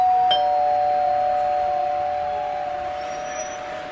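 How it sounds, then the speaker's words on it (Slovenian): A doorbell rings with a sustained electronic chime, loud and close, fading slowly over a few seconds. "pa bom kar pozvonil."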